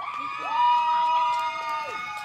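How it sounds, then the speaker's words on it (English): A softball game crowd's cheering section at an NCAA Wilmington game, with sustained shouting and cheering voices rising and falling over about two seconds, moderately loud and close. "This is that cheering section. Yay!"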